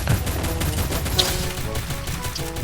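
Rapid gunfire from the mobile battle game Free Fire, pistol and machine-gun shots crackling in dense bursts over steady game background noise, loud and continuous throughout.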